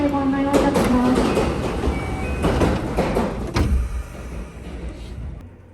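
A train departs Kyoto Station at night, a rumbling rolling noise with clunks and a few brief tonal whines, loud at first and then fading toward the end.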